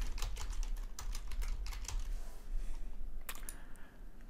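Quick, light clicking of keys on a computer keyboard as a note is typed, a steady run of taps that pauses briefly before a final few strokes, close and fairly quiet.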